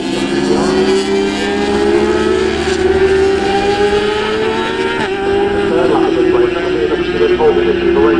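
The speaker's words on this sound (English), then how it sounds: "There goes Bruce across the line once again." Race cars crossing the finish line at a circuit, with a steady, loud engine drone that rises slightly in pitch, heard under continuous commentator talk.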